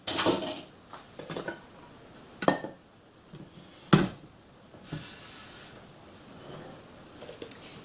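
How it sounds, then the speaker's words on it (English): Royal icing made from meringue powder is scooped out of a bowl into a screw-lid storage container, giving a few sharp clinks and knocks of utensil against the dish among quiet soft scraping, close by. "Try not to scrape your bowl when you're taking this out"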